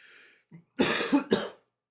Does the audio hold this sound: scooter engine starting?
no